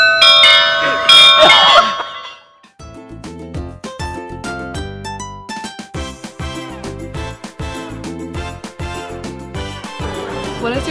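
Bells ring out loudly in a clanging peal, one dense burst and then many overlapping struck tones in a rapid, ongoing sequence, close and resonant.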